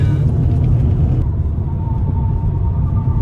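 A 2024 Opel Combo Cargo van with a 1.5 engine of 130 HP runs at full throttle into a bend, a loud low engine drone and road rumble heard from inside the cabin, steady throughout.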